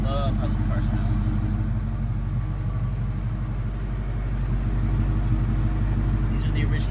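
A 2001 Ford Mustang Bullitt's engine idling through its original exhaust and tips, a steady low rumble that stays even and close, with a brief voice near the start.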